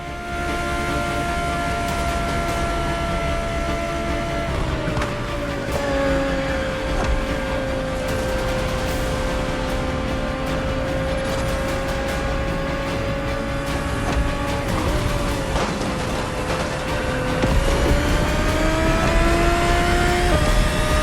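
The 2020 Audi R8 LMS GT2 race car in The Crew Motorfest gives a loud, steady engine drone with clear tonal harmonics. The pitch dips during gear changes and then climbs again as the car accelerates, and no voices are heard over it.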